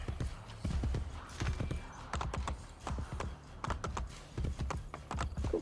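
Rapid rhythmic hoofbeats of a horse in the video game Assassin's Creed Brotherhood clatter in a steady galloping pattern, close and continuous, with a faint snort or whinny mixed in.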